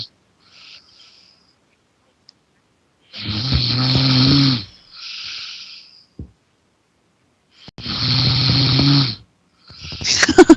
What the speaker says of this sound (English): His snoring sounds like him,